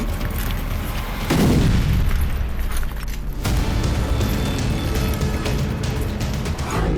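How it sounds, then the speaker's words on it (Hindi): Heavy booms and blasts from Ukrainian strikes on Russian cities, a loud surge of low rumbling explosion noise swelling early on, then continuing dense crackling and rumbling throughout without speech. "बुधवार से ही रूसी धरती पर यूक्रेन का भीषण विस्फोट जारी है।"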